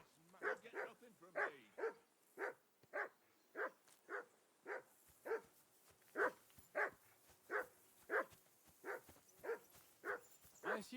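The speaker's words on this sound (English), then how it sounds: "I assume you can hear that damn dog of yours barking." A dog in Kingdom Come: Deliverance 2 barks about eighteen times in a steady run of sharp woofs, fairly close and loud, with no other sound around them.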